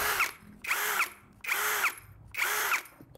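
Miyota D8216c cordless LXT impact drill run close up in four short bursts, each burst with a whirring motor and rapid ratcheting clicks, separated by brief pauses.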